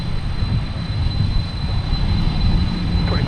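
Heavy cargo jets taxiing at Minneapolis–St. Paul airport after arrival, a loud, steady low engine rumble and roar with a faint high whine, continuous and without voices.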